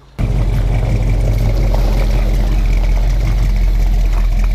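A 1978 Chevrolet K10 pickup with dual exhaust idles close by, a loud, steady, low rumble that starts abruptly and holds even for over four seconds, with no talk.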